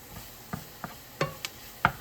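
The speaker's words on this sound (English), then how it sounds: "I want to get that cornstarch just kind of whisked in a little bit." Cornstarch being whisked into a white sauce in a pan, heard as a few sparse, soft scrapes and clinks of the utensil against the pan, spaced irregularly with quiet between them.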